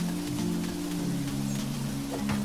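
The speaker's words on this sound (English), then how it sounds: "sounds like it's raining" Rain falls in the Monster Harvest farming game, a steady soft patter lasting throughout over a low sustained game music drone, with no talking.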